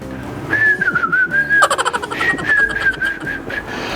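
Someone whistles a wavering melody up close, sustaining long notes, then breaking into a quick fluttering trill before continuing.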